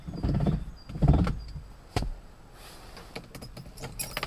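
Car keys jangling as a key goes into the ignition of a 1968 Rover P5B V8, several close metallic rattles and clicks followed by a quieter cabin with small handling noises.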